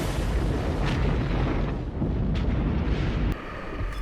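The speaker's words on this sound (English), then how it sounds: "And boom, there we go. Got our first submarine destroyed." Submarine destroyed in War Thunder naval combat, a heavy rumbling explosion with dense low roar sustained for several seconds, fading slightly near the end.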